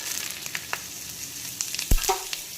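Whole spices tossed into smoking-hot mustard oil, a soft continuous sizzle with light clicks and a sharp clatter partway as more spices hit the pan.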